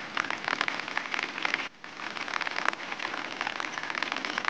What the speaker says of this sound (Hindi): पहाड़ में बारिश शुरू है गे, बारिश शुरू हो गई है